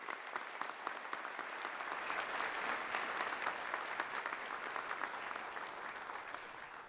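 An audience applauds newly inducted Kappa Delta Pi and Psi Chi honor society members at a university honors convocation. The clapping is dense, steady and moderately distant, with no speech over it.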